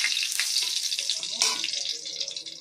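Bay leaf, dried red chili and whole garam masala spluttering in hot mustard oil, a steady close sizzle with crackling bursts and no talk.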